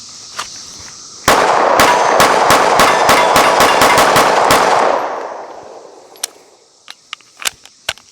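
Smith & Wesson M&P 2.0 Carry Comp pistol fired in a rapid string of about ten sharp, loud shots drawn from a holster, followed by scattered fainter distant pops.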